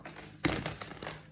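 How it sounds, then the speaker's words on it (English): A short burst of papery riffling and crackling, like cards being shuffled, close by and moderately quiet, lasting about a second. "Let's get one more shuffle."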